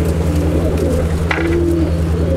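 Pigeons in a loft, a pair of Andhra Triplar birds from Andhra Pradesh, give soft low cooing over a steady hum. Several coos layer close by, with no talk.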